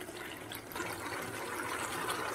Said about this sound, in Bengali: তো এরপর আমি এখানে উষ্ণ গরম জল দিয়ে দেব